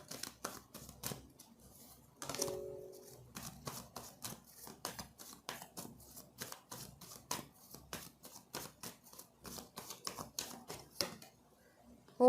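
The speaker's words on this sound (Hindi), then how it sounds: "कुछ कार्ड्स मैं यहाँ से लूँगी" Tarot cards shuffled and handled at close range, a long run of soft, rapid crisp flicks and riffles with short pauses, fairly quiet, with a brief snap near the start and a louder knock at the very end.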